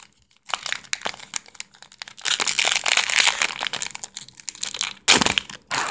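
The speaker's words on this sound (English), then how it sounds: "Today I'm going to be opening this Pokemon card pack." Pokemon card booster pack wrapper torn open by hand, giving close, loud bursts of crinkling and crackling foil in uneven clusters, with short quiet gaps between them.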